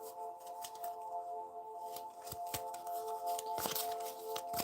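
Cards riffle and snap in quick bursts, with brisk slaps and shuffling rustles repeating close up against a steady background hum.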